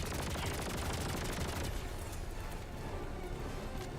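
Rapid, sustained gunfire in a video game, dense and loud bursts with a booming low end, easing off slightly toward the end.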